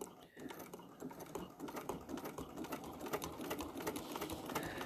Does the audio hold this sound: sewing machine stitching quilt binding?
yes